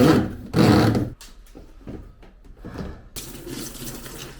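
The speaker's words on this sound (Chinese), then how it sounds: "我听见海浪的声音，站在洗衣机的旁边。" A washing machine churns its load, with loud surging bursts of sloshing water at the start and again at the end and a quieter mechanical stretch of whirring and knocks in between.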